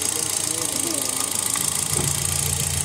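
A used 2013 Hyundai Accent's engine idles during a car inspection in Riyadh, giving a steady low rumble with a faint rhythmic knock, close and continuous under broadband noise throughout.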